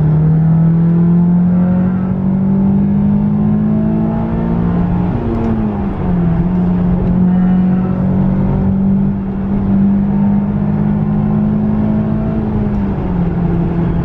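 Honda S2000 accelerating hard in third gear on a hot, dry day, its engine note climbing steadily and loud, with brief dips at shifts around the middle and near the end, heard from inside the car with no talk.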